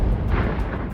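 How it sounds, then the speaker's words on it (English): A loud, rumbling blast from an FPV drone strike on a Russian tank, one second of dense, close low-frequency roar with no voices. "Suddenly, another accurate FPV drone strike hits its mark."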